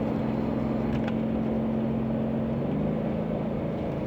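A 2020 Ford F150 Lariat engine revs in third gear in manual mode. A loud, continuous engine drone with a steady hum rises slightly in pitch near the end.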